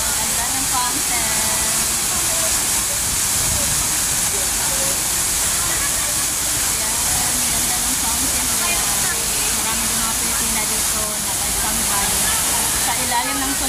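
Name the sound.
water fountain in Chater Garden, Hong Kong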